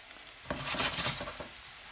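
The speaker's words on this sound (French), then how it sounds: "cette poêle, avec ce beurre et ces échalotes, on va y cuire nos très belles pleurotes rosées" Pink oyster mushrooms fry in butter with shallots in a hot pan with a steady crackle, punctuated by a few soft stirring and scraping sounds.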